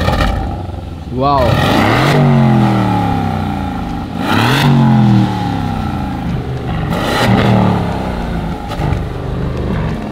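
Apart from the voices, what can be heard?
Aston Martin car engine revving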